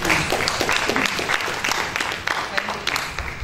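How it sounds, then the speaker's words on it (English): An audience at an academia, industry and government engagement forum claps, a brief burst of steady crowd applause with speech faintly mixed in. "Glad you feel like clapping."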